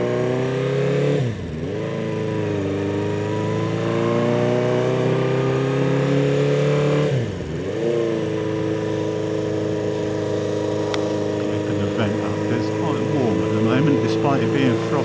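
A motorbike on its first ride of spring on a frosty morning, engine droning steadily up close with two sharp dips and swells as gears change, wind rush throughout.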